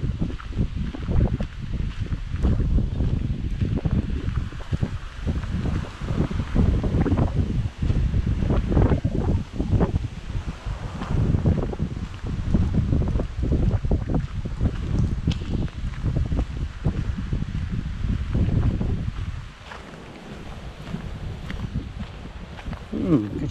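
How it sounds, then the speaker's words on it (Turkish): Gusty wind buffets the microphone at a small, calm seaside cove near Kömür Limanı on the Gelibolu coast, a steady broadband roar with rising and falling gusts throughout and a slight easing near the end. "Biraz rüzgarlı bugün."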